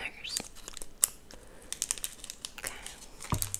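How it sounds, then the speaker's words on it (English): Scissors snipping open a small packet, with soft crinkling plastic and a few sharp cuts and rustles, close and quiet, in a short burst of handling noise. "I'm going to go ahead and open this little packet here with the scissors."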